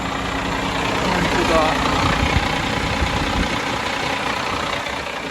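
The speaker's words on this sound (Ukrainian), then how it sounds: "І от чудо, Мерседес завівся, коли підключили солярку напряму" Mercedes truck engine idling after being restarted with diesel fed directly, a steady low rumble with broadband noise running continuously and fairly loud throughout.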